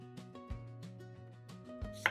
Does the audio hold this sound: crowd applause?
no